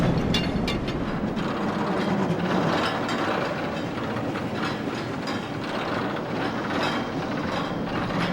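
A train rolling through the Riven game world, with steady mechanical rumble and ratcheting clickety-clack clatter sustained close by throughout, no talk.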